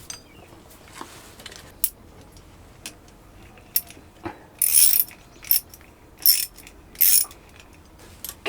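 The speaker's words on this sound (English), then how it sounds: "I was tightening down all the bolts on the water pump over here" A ratchet wrench tightening bolts on the water pump of a Kubota diesel engine, heard as sharp clicking bursts that grow into repeated rapid ratcheting strokes, close and isolated, between quieter pauses.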